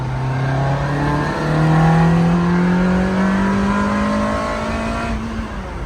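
A loud, high-revving Ferrari engine roars steadily, its pitch climbing through the gears, close and sustained without pause.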